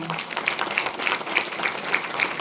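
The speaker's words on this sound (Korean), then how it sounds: "그래도 박수 한번 해주시기 바랍니다." An audience applauds at a temple inauguration ceremony, with steady, dense clapping held at a moderate level for the whole stretch.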